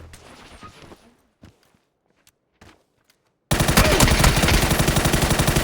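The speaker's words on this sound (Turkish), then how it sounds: "Buradan sıkıyorlar" Automatic gunfire in PUBG, a few scattered faint shots and thuds at first, then a loud sustained rapid burst of fire with a rhythmic rattle that lasts to the end.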